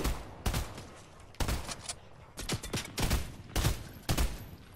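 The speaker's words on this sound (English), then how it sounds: "Why are they shooting us" Gunfire in the video game Fortnite: repeated sharp bursts of shots in quick volleys over about five seconds, fairly loud, with no talk over them.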